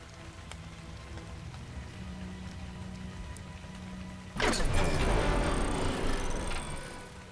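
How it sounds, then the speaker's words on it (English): Rain falling in a game setting, a steady hiss of drops that suddenly grows louder and closer midway, as if stepping outdoors or under a noisy surface, with no talking. "Come on in, let's get out of the rain."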